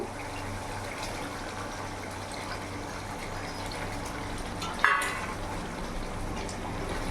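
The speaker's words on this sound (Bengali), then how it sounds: "এবার এক এক করে মাছগুলো আমি দিয়ে দেবো" Rohu fish pieces dropped into a boiling tomato curry. A steady bubbling simmer fills the clip, broken by a single soft splash partway through.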